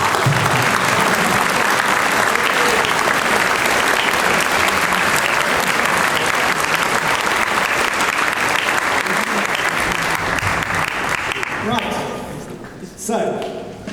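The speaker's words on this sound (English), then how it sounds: "I'd love you to join with me in sending back this ringing round of applause" A large audience at the Claires Court school Speech Day and Prize Giving, 2019, gives loud, dense, sustained applause that holds steady, then thins and fades in the last couple of seconds.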